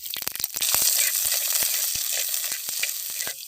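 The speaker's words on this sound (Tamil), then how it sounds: "அதுக்கு கொஞ்சம் எண்ணெய் சேர்த்து வதக்கி எடுத்துக்கலாம்" Onion frying in hot oil with cinnamon, ginger, garlic and chilli in a pan, a close crackling sizzle broken by sharp spatters and stirring for a few seconds, with no voices.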